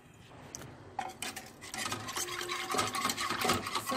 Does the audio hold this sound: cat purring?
no